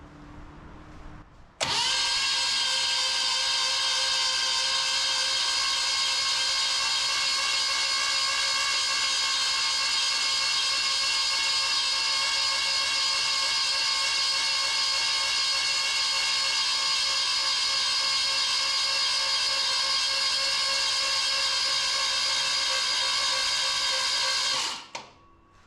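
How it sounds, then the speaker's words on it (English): A rebuilt Ford 429 Thunderjet V8 cranks over steadily on the starter to build oil pressure without firing, a loud, even whirring drone lasting over twenty seconds before stopping abruptly. "I'm gonna spin it over and build up some oil pressure first"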